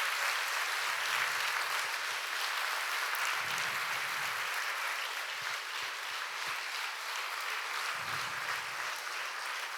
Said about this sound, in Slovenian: vsi si zaslužijo še en velik aplavz.